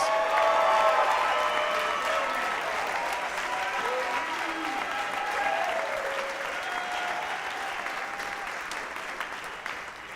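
A crowd applauding award winners at a university athletics awards ceremony, sustained dense clapping that fills the room and fades slightly toward the end, with faint voices beneath.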